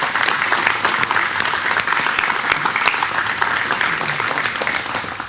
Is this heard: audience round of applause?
yes